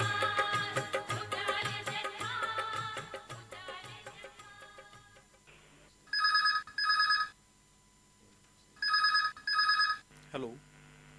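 Two double-burst telephone rings sound clearly after a stretch of music with singing, the call coming in to a radio call-in program in Akola; the rings stand alone against near-silence.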